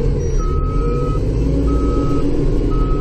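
A snow plow truck's reversing alarm beeps in steady, evenly spaced tones over a loud, rumbling idling engine, heard from inside the cab on an early-morning plowing run in Bay Roberts, Newfoundland.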